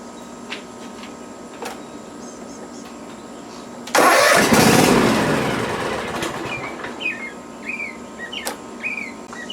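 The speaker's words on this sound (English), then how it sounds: "I'm going to show you what it does when I try and start it" A Cub Cadet ZT1 Ultima mower engine cranks and catches with a sudden loud roar, then immediately dies and fades out over a few seconds, with birdsong around it in an otherwise quiet outdoor setting.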